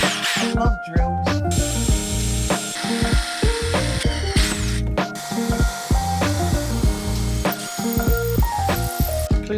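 A power drill bores holes into wood for hanging wires while building a cichlid aquarium setup, the motor whirring in short, stepped bursts that stop and restart, close and fairly loud, with rasping bit noise between bursts.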